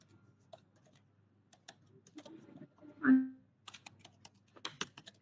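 Note typed on a computer keyboard in a medical setting: scattered, fairly quiet key taps that pause, then come back as a quicker run of clicks near the end.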